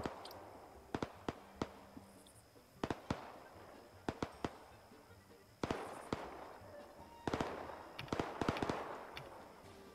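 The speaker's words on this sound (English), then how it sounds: "Those big explosions are air dropping bombs" Bomb explosions from an air strike in the Arma 3 Iron Front battlefield, heard as a rapid series of sharp booming blasts, some close and loud and others farther off, scattered irregularly with a rumbling roar building near the end.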